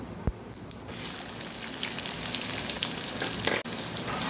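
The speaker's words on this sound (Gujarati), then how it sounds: "રાઈ જીરું સરસ ફૂટી જાય એટલે આપણે એમાં ડુંગળી ઉમેરી દઈશું" Onion frying in hot oil along with crackling mustard seeds, cumin and asafoetida, a steady broadband sizzle after a couple of sharp pops and clatters at the start, with a brief dip near the end.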